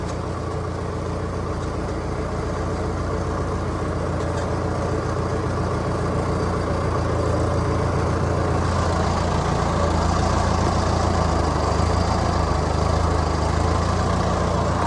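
Tractor engine idling steadily throughout on a Vaisakhi festival day, a continuous low heavy rumble that stays near and fairly loud, growing slightly denser toward the end, with no voices.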